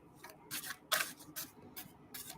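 A deck of purple affirmation cards is shuffled up close in a quiet room, with five or six short papery riffling bursts in an uneven rhythm and no talking.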